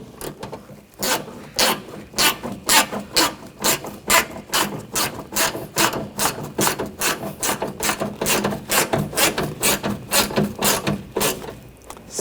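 A hand ratchet tightens bolts on the front door window regulator of a 2014-2020 Nissan, giving a long, steady run of sharp, evenly spaced clicks, close and alone.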